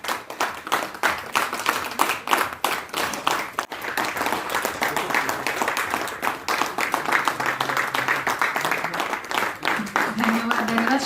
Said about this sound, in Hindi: पलामू, तालियां बजती रहे, वेरी गुड।